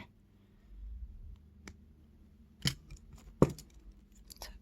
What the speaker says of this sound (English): And now you can cut that excess off there.